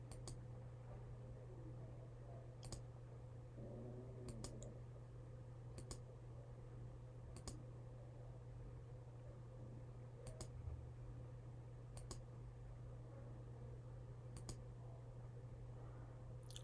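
Computer mouse clicks, a sparse series of short sharp taps spaced a second or two apart, quiet and close, over a steady low electrical hum and faint room noise.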